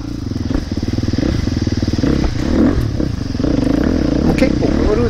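A KTM 350 SX-F dirt bike rides through woodland trails, its four-stroke engine thrumming steadily and close with small rises in revs, alongside clattering from rough terrain; someone speaks over it.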